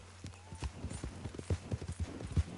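Steady, rhythmic clopping of horse hooves in the video game Red Dead Redemption, moderately close, with a low hum underneath and no talking.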